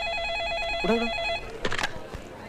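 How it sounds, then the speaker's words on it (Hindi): A telephone rings with a steady electronic trill repeating for over a second, then stops as a receiver is picked up with clattering handling noises. "फोन उठाओ।"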